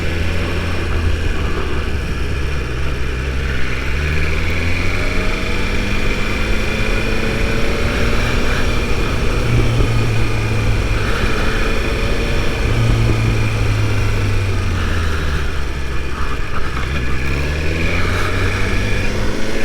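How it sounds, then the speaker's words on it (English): A 2022 BMW S1000RR is ridden on streets in Brazil, with steady wind rush over an engine note that rises and falls through gear changes. The sound is loud and continuous, with no speech. "I feel like there's a lot of wind coming in."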